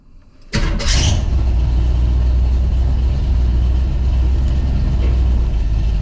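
A car engine cranks and catches before a transmission gear-change test, then settles into a loud, steady idle that runs unbroken to the end.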